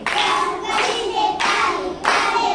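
Children clap their hands in an action song, a group of claps landing together in a slow, steady beat of about four loud bursts, each ringing briefly before the next.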